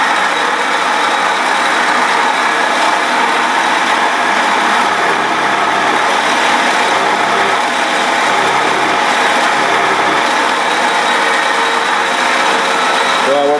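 A GAEP BN 3 crimping die turns a cartridge with a steady whirring, grinding motor sound that runs loud and unbroken throughout, with no talk.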